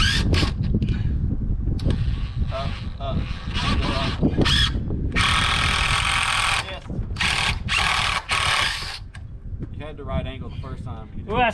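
A power tool drives screws during work on a roof extension: several loud, whining bursts of a few seconds each, stopping and starting, over constant wind noise, with people talking in between.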